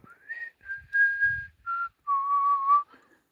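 A man whistles a love song melody alone at a campsite, clear sustained notes in short phrases with brief gaps, near and moderately loud, no talking.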